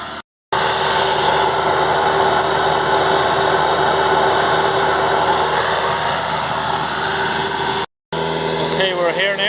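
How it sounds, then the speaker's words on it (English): A Peugeot Boxer van's engine runs steadily during a turbo and carbon cleaning regeneration, a constant close-up drone with two brief cuts to silence. "we just have our regeneration here going on the Peugeot Boxer in the meantime"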